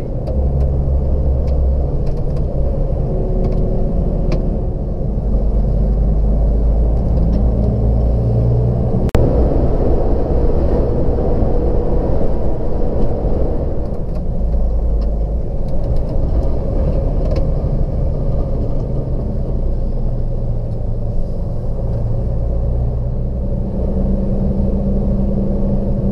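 A truck cab interior while driving on a country road: a steady, loud low engine drone and road rumble throughout, with one brief knock partway through.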